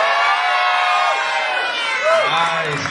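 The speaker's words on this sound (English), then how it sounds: "Can we hear you, crowd?" A small live crowd of about fifty people cheers and whoops loudly, with overlapping shouts and voices filling the whole stretch.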